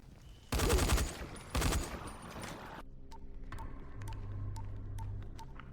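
Two loud rifle shots crack in quick succession in the zombie game Dying Light, followed by a quieter stretch of low hum and faint clicks.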